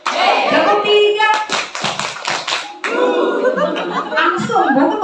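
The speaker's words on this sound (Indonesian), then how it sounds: "Tepuk 1, 2, 3." Parents clap their hands along to a counted rhythm at a kindergarten Quran-reading opening event, with bursts of several quick claps between stretches of a voice and some chuckling.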